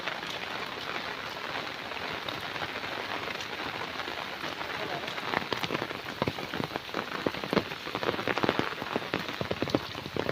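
Rain pours down steadily in a village beside a river, a dense, loud patter on surfaces that grows heavier toward the end, with no voices over it.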